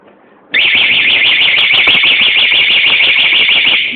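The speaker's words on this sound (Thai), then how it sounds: "เปลี่ยนเป็นตัวนี้นะครับ เสียงดังฟังชัดนะครับ" A loud replacement siren on a Honda PCX150i scooter bursts on after a brief quiet moment, a shrill warbling wail that cycles rapidly and holds steady at close range for several seconds.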